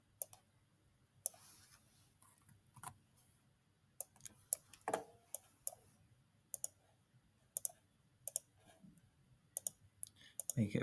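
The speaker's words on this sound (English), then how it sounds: "So we click here." A computer mouse clicking during database work, sharp isolated clicks scattered irregularly, some in quick pairs, close and crisp against a quiet room, with occasional soft talk.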